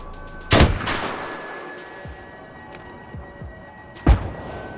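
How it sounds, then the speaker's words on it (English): Two heavy explosion booms in Battlefield, one at about half a second and another near four seconds, each a sharp blast with a rumbling tail, set amid faint ambient battlefield noise and a few softer distant thumps. "Notice how we're standing right next to this explosion and you can hear it instantly."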